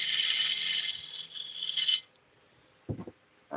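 A roughing gouge shapes spinning wood on a lathe, giving a steady loud scraping rasp for about two seconds that then stops, followed by a couple of short clunks nearby.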